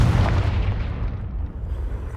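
The Confringo fire spell from Hogwarts Legacy bursts with a heavy, booming blast that rolls into a fading rumble and a muffled rushing tail.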